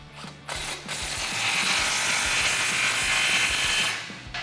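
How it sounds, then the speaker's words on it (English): A ratchet with a 15 mm deep socket cranks down an exhaust clamp on a 2019-2021 Ram 1500 5.7L during a muffler bypass pipe install, giving quick repeated pawl clicks in a steady run up close, with no talk. "with the same 15 millimeter deep socket, tighten down that other clamp"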